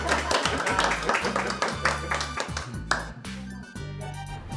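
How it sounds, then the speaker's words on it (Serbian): Applause at a community event in Raška, a burst of hand clapping over a loud, thumping background of music or noise, busy at first and thinning out toward the end. "Jedan aplauz."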